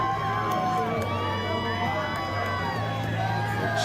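Crowd cheering and whooping at a political rally, with shouts rising over a steady wash of many voices, some close and some distant, continuing throughout.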